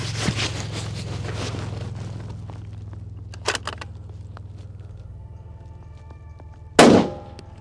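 A precision rifle fires on an outdoor range, with broadband shot blasts near the start, a fainter report around the middle and a loud sharp crack near the end over a steady low rumble.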